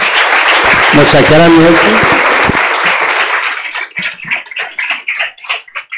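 Audience applause for an engineer at a worldview training workshop, a dense burst of clapping mixed with a speaker's voice that thins into scattered, fading claps toward the end.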